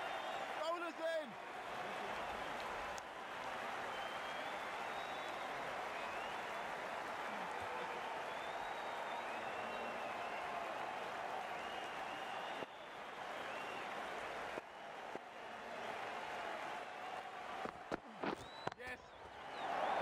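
At a cricket match between the Houston Stallions and Silicon Valley Seals, a crowd applauds and cheers steadily from a distance after a great shot, while a commentator talks over the noise.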